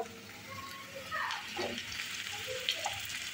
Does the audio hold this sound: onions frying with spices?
yes